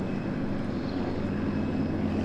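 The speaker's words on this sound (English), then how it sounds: "Spitfire starting" A Spitfire's piston aircraft engine at an airport, heard as a steady, dense low roar with no breaks and no voices over it.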